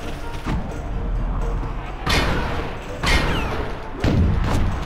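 Bullets fired at an enemy in the video game Psychonauts, in the El Odio level: three sharp, loud blasts about a second apart, each with a short crackling tail, over a steady low game rumble.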